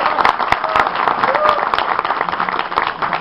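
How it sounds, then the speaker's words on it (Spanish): An audience applauds at the Expo Ofrendas 2009 ceremony of a tourism school, a dense burst of clapping from a crowd in a large space, with voices talking over it. "nos traen un aplauso"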